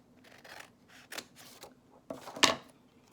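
Scissors snipping paper for an origami bookmark, a few soft close crisp cuts with light rustling, the last snip louder and sharper, in a quiet room.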